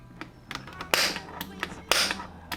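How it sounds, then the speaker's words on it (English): A hammer strikes a center punch on marked drill-hole spots for a Tacoma head unit mount, giving a few light taps and two sharper metallic raps about a second apart, close and unhurried. "This time I'm using an actual center punch"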